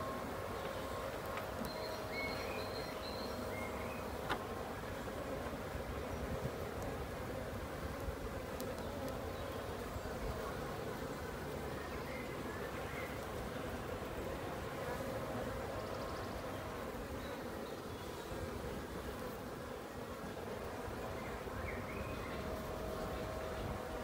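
Honeybees buzz steadily around an open beehive during beekeeping work, a dense, continuous drone of many wings lasting throughout, close and even in level.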